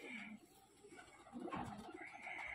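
A golden pigeon coos softly, a few low, faint, throaty calls with a quiet room background.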